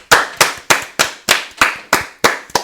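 Hands clap in a slow, even rhythm, about eight loud, sharp claps in quick succession, close and dry with no crowd or voices behind them, marking the end of a sports talk show.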